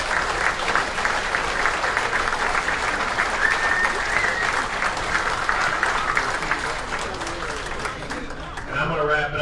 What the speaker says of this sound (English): If we give everybody, all of our inductees, one more round of applause.